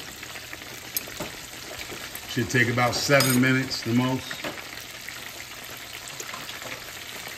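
Steady oil sizzle from flounder deep frying in a cast iron pot runs throughout, with a brief burst of someone talking in the middle.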